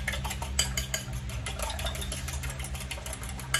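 Eggs for a pork omelette being beaten by hand in a bowl, a steady run of quick, close clicking and tapping strokes with no talk.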